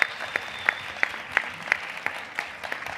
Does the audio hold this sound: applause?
yes